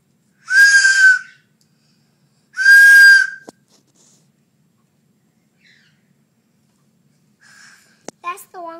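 A toy train whistle blown twice, each a loud, steady shrill tone lasting about half a second, then a short pause of quiet before faint voices come in at the end.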